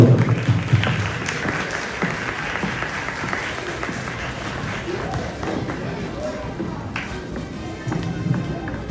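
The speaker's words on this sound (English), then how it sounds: "Round of applause." An audience at a Pakistani community Independence Day event in Finland breaks into applause, with clapping loudest at first and then thinning into scattered claps, while voices and room chatter carry on underneath.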